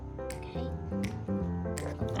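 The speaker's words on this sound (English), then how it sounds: "I'm gonna pour in the glue." Glue poured into a measuring cup while making slime gives a steady, close squishy liquid sound with soft gloopy bursts, over a faint tonal background.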